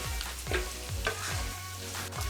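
Minced mutton keema stirred with chilli powder and coriander powder in a pan: a steady sizzle runs throughout, broken by five regular scraping strokes of the spoon, close and clear with no talk.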